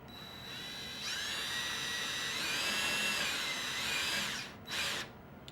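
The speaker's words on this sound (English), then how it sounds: "We're going to try and drill some little holes now." A power drill with a tiny bit whines as it bores small holes in PVC, rising to a high steady pitch, holding for a few seconds, then stopping, followed by one short second burst.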